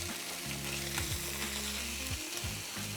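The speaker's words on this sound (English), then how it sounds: "a little bit of salt on the chicken. I don't tend to add pepper when I'm frying" Seasoned chicken thighs frying in a pan, a dense close-up sizzle and crackle with steady spitting throughout, no talking.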